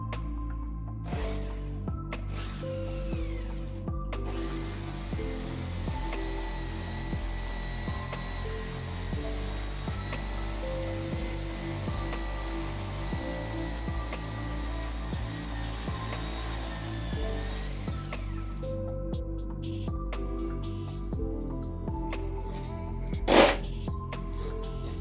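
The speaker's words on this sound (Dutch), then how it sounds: "Dus ik ga gewoon eentje er doorheen boren om te kijken hoe ver ik kom." A power drill bores through a wall being treated against rising damp, giving a steady, loud mechanical whirring and grinding that runs continuously for most of the stretch before stopping, with a few short clunks near the end.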